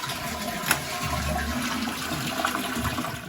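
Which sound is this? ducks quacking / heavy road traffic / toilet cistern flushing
toilet cistern flushing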